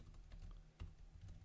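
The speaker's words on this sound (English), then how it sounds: "Typing." Quiet clicking of a computer keyboard being typed on, with a quick, irregular run of soft keystrokes close by and one slightly firmer tap partway through.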